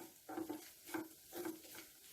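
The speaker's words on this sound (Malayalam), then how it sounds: "അപ്പോൾ കൈവിടാതെ ഇളക്കിക്കൊണ്ടിരിക്കാം." Grated coconut roasting in a pan for erissery, stirred with soft scraping strokes in a steady rhythm of about four passes, faint and close, with no speech.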